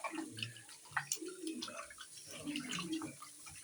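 Raw chicken is washed by hand in a bowl of water, giving soft splashes and sloshing with small knocks against the vessel, faint and close, while a voice talks intermittently over it.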